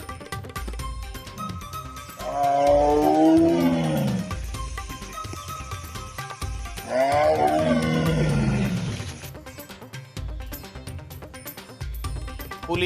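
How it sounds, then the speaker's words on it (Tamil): A tiger walking in Kabini forest, Karnataka, gives two loud, deep, drawn-out roars a few seconds apart, close and clear over a quiet outdoor background. "கர்நாடகாவின் கபினி வனப்பகுதியில் உலா வந்த புலி."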